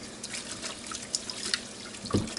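Tap water running and splashing in a sink close by, with a few drips and a brief clunk near the end.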